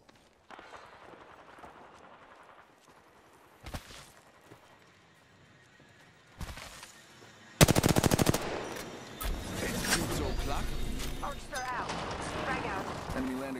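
Gunfire in the battle royale game Apex Legends: scattered single shots, then a loud sustained burst of automatic fire followed by continued rapid shooting and clatter, with a voice talking over parts of it.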